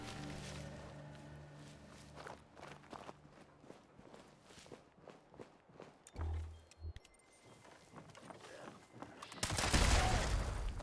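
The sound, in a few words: explosion in a video game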